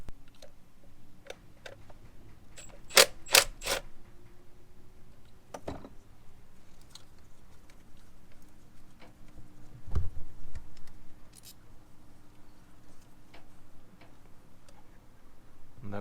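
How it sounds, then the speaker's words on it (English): A ratchet works the 10mm bolt on a coil pack of a Toyota 2UZ V8 in a Land Cruiser 100 series or LX470, giving short bursts of sharp ratcheting clicks separated by quiet stretches. "you remove the 10mm bolt and it'll come right out"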